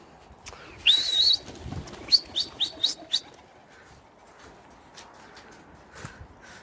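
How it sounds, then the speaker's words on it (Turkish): Pigeons call with sharp chirps and whistling notes, and a brief flutter of wings comes early on, fairly quiet and close, followed by faint scattered knocks and rustles. "Evet birazcık bizim kuşlarımızı uçuralım."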